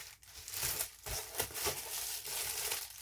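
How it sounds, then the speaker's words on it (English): A package being opened with scissors at close range: steady crinkling and tearing of wrapping material with brief rustling pauses, no voice heard. "we are gonna open up the package here, and thankfully, I actually have my scissors right on"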